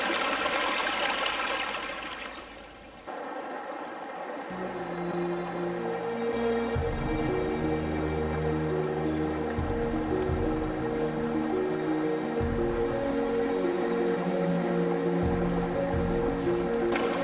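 River water rushes and churns steadily throughout, a broad continuous wash that swells after the first few seconds, at a river in the West Country, UK, with its water level dropping, with no talking over it.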